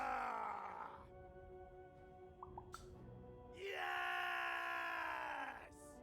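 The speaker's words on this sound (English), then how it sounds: "Can you scream hard enough to make strangers die?" A character from the video game Lost in Random screams loudly in two long drawn-out bursts, a strained vocal cry that breaks off and then returns even harder near the end.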